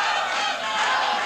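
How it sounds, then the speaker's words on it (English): A 1979 wrestling arena crowd yelling loudly and steadily for Kevin Von Erich in his match against Dick Murdoch, a continuous roar of many voices filling the hall with no clear gaps. "The crowd begins to yell for Kevin Von Erich."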